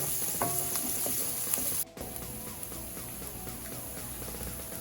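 Onions fry in oil for curry crabs, giving a steady, close hiss of sizzling with light stirring knocks throughout and a brief dip in the sound partway through.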